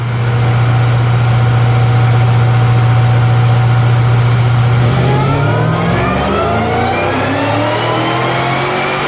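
A Cadillac CTS-V Wagon engine holds a loud, high, steady rev, then the pitch drops away as it settles back into a deep, rumbling idle close by.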